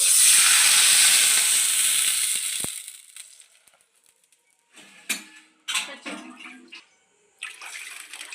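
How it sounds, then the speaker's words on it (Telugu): Water poured into a hot pan while cooking Maggi noodles with green chillies hisses and sizzles loudly for about three seconds and then fades, followed by a few light clinks and scrapes of a utensil in the pan. "ఆ తర్వాత వాటర్ అనేది పోసుకున్నామండి"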